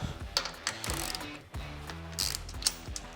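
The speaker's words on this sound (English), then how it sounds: "First thing we need to do is we're going to take out these two acorn nuts." A ratchet wrench removes acorn nuts on a Harley motorcycle, clicking in quick close bursts with short pauses between strokes, and no one speaks.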